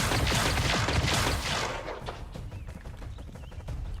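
Suppression fire in the video game XCOM 2 comes as a dense burst of rapid gunshots, followed by scattered clicks and mechanical thuds.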